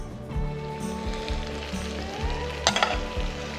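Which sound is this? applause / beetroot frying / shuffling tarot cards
beetroot frying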